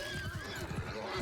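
A horse neighs and whinnies amid Mount & Blade II: Bannerlord cavalry combat, a short strained cry over a busy battle din with faint hoof clopping.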